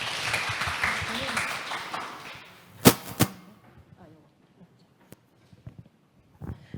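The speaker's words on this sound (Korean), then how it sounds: "큰 박수 부탁드리겠습니다." An audience applauds at a conference session on the history of .kr: a burst of fairly close clapping that tapers away after about two and a half seconds, followed by a few loud knocks and near silence.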